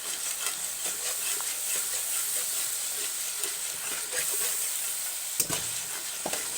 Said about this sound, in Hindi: हमारा मसाला जो है वो भून रहा है